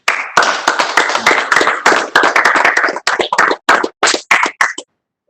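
Short bursts of hand clapping for newly commissioned U.S. Army lieutenants, loud and close, coming in separate choppy spurts that thin out and stop near the end.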